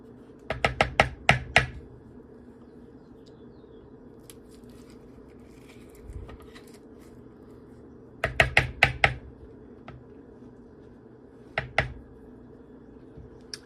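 Spoon scraping and scooping cut-up avocado into a dish of leftover pasta, in three clusters of close, sharp clicks and taps, with quiet pauses between them.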